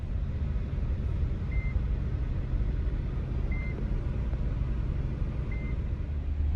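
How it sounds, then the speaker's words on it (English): Three short, high electronic beeps of a passenger-side seat belt warning, evenly spaced about two seconds apart, faint over a steady low engine rumble inside a moving 2010 Mercedes-Benz G55 AMG (W463) G-Wagon. "I'm getting a little beep here."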